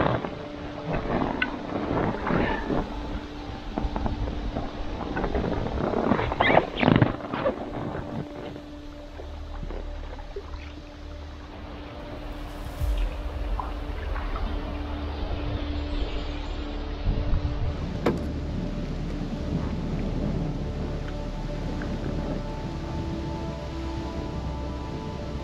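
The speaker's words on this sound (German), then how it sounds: "Auf geht's durch den Sturm" Storm wind on Lake Saimaa during a canoe tour in Finland, strong gusty buffeting against the microphone with rushing air and occasional knocks and splashes, loud and continuous throughout.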